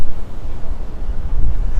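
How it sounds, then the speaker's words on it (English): Strong wind buffeting a microphone on the Staten Island Ferry at night in New York City, a loud, low, gusty rumble that swells and dips continuously with no clear speech. "it is so windy"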